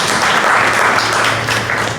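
Audience applause for a boxing team at a Legacy Boxing Promotions event, a steady wash of clapping from a crowd that fills the whole moment at an even, loud level.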